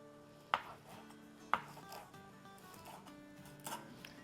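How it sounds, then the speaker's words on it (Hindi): A knife chops fresh mint leaves on a board, two sharp distinct strikes about a second apart followed by softer scattered cuts, close and quiet with no talking. "तो चले इसको थोड़ा थोड़ा काट लेते हैं"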